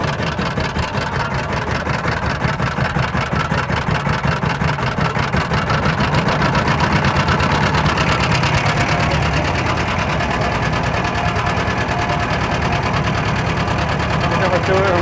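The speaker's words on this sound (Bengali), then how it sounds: "ওই যে নৌকাতে যে মেশিন সেই মেশিন চাপ দিয়েছে।" A shallow-engine boat motor running on Chalan Beel wetland, a loud, steady fast chugging drone close by throughout, with a voice talking over it.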